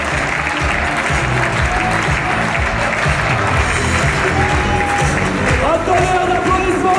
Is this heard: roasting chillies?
no